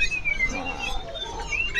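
Birds chirping outdoors, with thin high whistles and tweets over a steady background of rustle and hum, constant and fairly close throughout.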